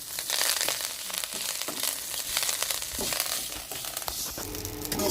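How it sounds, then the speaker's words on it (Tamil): Curry leaves frying in ghee, a steady close crackling sizzle with crisp rustling and popping as the leaves crisp up in the pan, with no talking. "இந்த நெய்யிலேயே கருவேப்பிலையை நல்லா வறுத்து எடுக்கணும்"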